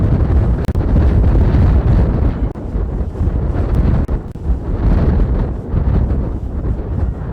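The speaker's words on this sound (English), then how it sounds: "sustained 42-mile-per-hour wind to first pitch" Strong sustained wind of about 42 miles per hour batters the microphone at a baseball field, a loud, continuous rumbling roar with gusty surges throughout.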